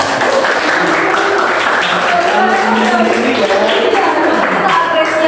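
A group of people claps steadily, a dense, loud burst of applause that fills the whole stretch without pause, with voices faintly mixed in.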